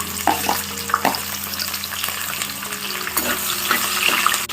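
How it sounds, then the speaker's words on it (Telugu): Cashews fry with spices in a pan for vegetable pulao, giving a steady, close sizzle broken by a few sharp stirring clicks, with no voices. "మసాలాలతో పాటు జీడిపప్పు కూడా వేసుకుని ఫ్రై చేసుకోవాలి"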